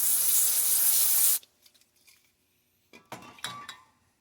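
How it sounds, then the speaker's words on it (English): A steady hiss of degreaser sprayed onto rifle bolt carrier group parts lasts just over a second, then quiet light clinks and taps of metal parts being handled. "I'll spray it off with some degreaser just to be sure we can get a good look at it"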